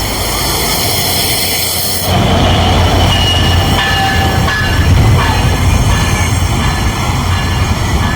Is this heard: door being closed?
no